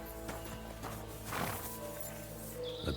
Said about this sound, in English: beautiful horse. Black as charcoal.